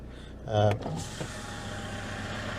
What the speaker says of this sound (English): Open the window. That's as far down as the window goes, by the way, because the window is enormous.